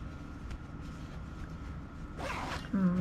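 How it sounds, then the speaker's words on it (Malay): A zipper on a sewn ruffled dress is pulled closed in one quick rasping run near the end, close and clear over a low room hum. "Kita tarik zip."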